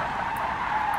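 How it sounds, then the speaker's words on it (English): A car drifting in the BeamNG.drive driving game, a sustained tire squeal with a steady engine drone underneath, loud and unbroken for the whole moment, no voices. "It's a nice drift."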